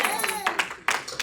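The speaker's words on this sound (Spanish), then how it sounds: "Denle un aplauso al Rey, un aplauso al Rey" A church congregation clapping together, a dense burst of applause mixed with voices speaking and singing over it, fairly loud and close.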